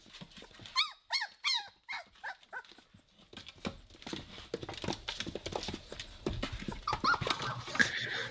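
Three-week-old puppies give a quick burst of high, squeaky whimpers and yelps near the start, then a softer, busy stretch of small squeals, shuffling and scrabbling nearby.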